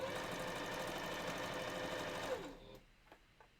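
A sewing machine stitches fabric for a wolf-costume balaclava, a steady close mechanical whir that runs continuously and then winds down and stops, leaving a few faint clicks.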